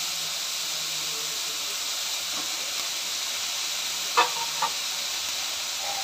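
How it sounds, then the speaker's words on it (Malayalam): Grated coconut and turmeric powder fry in a pan with a steady, soft sizzling hiss. A couple of brief stirring scrapes stand out near the end. "തേങ്ങയും ചേർത്ത് മഞ്ഞൾപ്പൊടിയും ചേർത്ത് ഇതിലേക്ക് ഇപ്പോൾ തേങ്ങ ഇതെല്ലാം ഒന്ന് മൂത്തിട്ടുണ്ട്"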